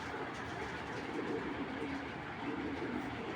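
Racing pigeons from breeding stock give low, soft coos, partly masked by a steady broadband rumble that runs throughout at moderate level.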